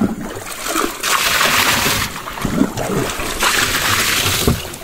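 Water is sloshed, poured and splashed while refreshing a container of live fish bait on a riverside fishing trip on the Perak River, in two long rushing bursts with trickles and knocks between.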